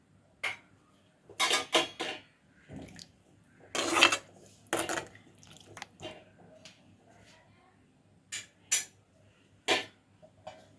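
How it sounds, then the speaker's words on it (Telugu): Metal lid set down on a cooking pot of dried-fish curry, with several sharp clanks and scrapes in short bursts, close and fairly loud, alone without talk. "అంతే, మూత పెట్టేద్దాం"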